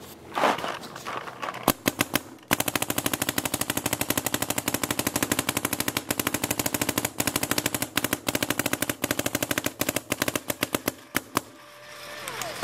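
A DM11 paintball marker fires on semi-auto in a long, fast run of sharp pops for about ten seconds, close and loud, with a few spaced shots before and after the main string.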